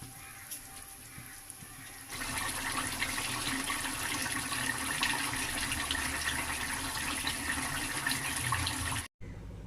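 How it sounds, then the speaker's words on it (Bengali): Water pours into a pan of jackfruit curry, a faint background hum giving way after a couple of seconds to a steady, close rushing gush that runs for about seven seconds before cutting off abruptly. "এখন এর মধ্যে জল দিয়ে দেব"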